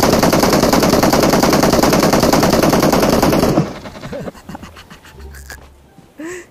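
Loud, rapid machine gun fire in a video game rattles continuously for several seconds, then cuts off into quieter game sounds and brief shuffling.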